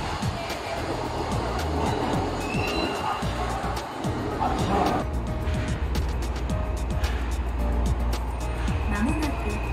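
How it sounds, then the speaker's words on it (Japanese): A new Tokyo subway car rolling along the track with a light, steady running noise and soft rail clicks, continuous and fairly loud inside the carriage throughout. "なんかこの新しい車両からは軽やかな音に変わってますね"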